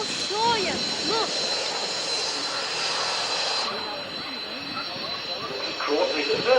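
Aircraft flying at a 1994 airshow in Woodford, a steady jet roar held at a distance with people talking over it, easing slightly partway through.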